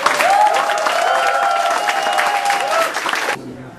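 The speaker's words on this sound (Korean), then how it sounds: "우리 다 같이 박수 한번 크게 쳐줍시다." An indoor audience gives a welcome for trainee reporters with a full burst of sustained clapping, with a voice faintly audible over it, before the applause cuts off abruptly near the end.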